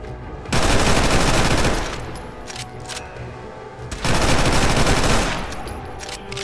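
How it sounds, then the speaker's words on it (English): A Tech 9 firing in Fallout 4, heard as two loud, rapid bursts of automatic gunfire about three seconds apart, each followed by a brief echoing tail. "It's really aggressive sounding. But there you go. There's the Tech 9."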